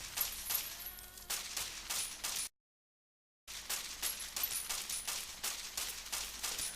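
Video game gunfire: rapid, sharp bursts of shots at a moderate level, interrupted by a second of silence, then resuming in a steady rattling run.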